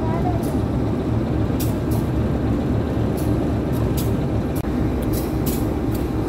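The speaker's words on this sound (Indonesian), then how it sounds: "Kereta api Lodaya sudah melintas di sini ya." The Lodaya passenger train passing by near Cicalengka, a loud continuous rumbling roar of wheels and carriages that stays steady throughout, with faint clicks over the top.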